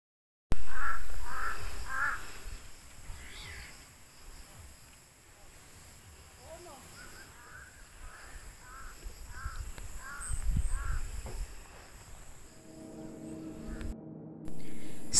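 Crows cawing in an open outdoor spot on a hill, with a series of harsh calls in a rhythmic run under steady wind, fairly close; other bird noises and a distant voice join near the end.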